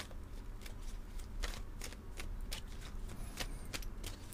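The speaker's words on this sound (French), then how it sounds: "on va prendre une carte de l'énergie des pierres ici pour terminer" Oracle cards with stone energy themes being shuffled and drawn, giving close, soft, repeated riffling and flicking sounds at an irregular pace, faint and without talking.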